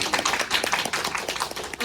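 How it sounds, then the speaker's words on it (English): A conference audience at a women's equality session gives the speakers applause, a dense patter of many overlapping handclaps, loud and even throughout the short burst. "So give you a big applause"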